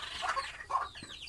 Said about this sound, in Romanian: Este o găină de rasă pitică